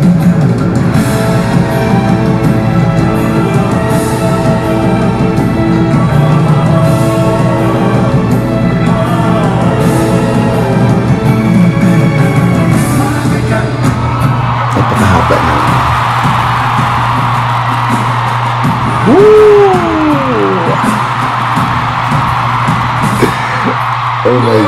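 A dense concert crowd roars, whoops and yells continuously at a Kuala Lumpur show, loud and sustained over a low droning backing, with a few rising shrieks near the end.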